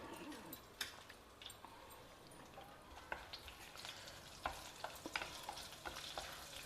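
Fennel seeds and slit green chillies frying in a couple of spoons of hot oil, with a soft steady sizzle broken by scattered crackles and pops and occasional stirring clinks, no talking.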